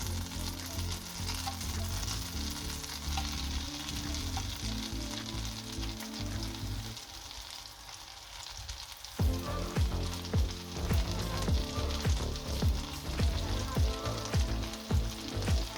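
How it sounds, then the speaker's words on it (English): Mushrooms frying in a pan of melted butter with a touch of sunflower oil for a full breakfast, a steady close sizzle that grows busier and crackles louder partway through, with no talking. "4 more knobs of butter. Just a touch of sunflower oil. We mix it well. And we go in with the mushrooms."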